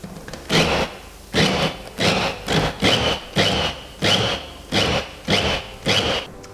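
A knife chops cooked chestnuts on a board in a steady rhythm of about ten close, crisp strokes, each a short thudding crunch, with no talking.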